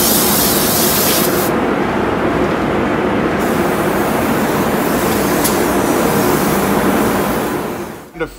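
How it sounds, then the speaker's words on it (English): Spray gun running continuously in a parts spray booth while the parts are turned on a rotating stand, giving a loud steady hiss that holds for about eight seconds before cutting off. "We don't stop spraying to turn any of the parts."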